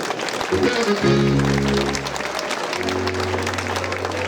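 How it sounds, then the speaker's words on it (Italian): Applause breaks out for a Sardinian folk group from Orosei, steady crowd clapping heard beneath sustained droning tones from the performers' music. "vi fate un applauso"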